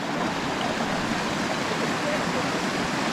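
Steady rushing water of a backcountry stream flowing strongly, a dense, continuous broadband wash close to the microphone with no pauses and no voices.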